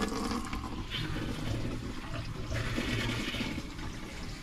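Water runs steadily from a motorhome shower, a continuous hissing splash nearby with a faint rushing texture throughout.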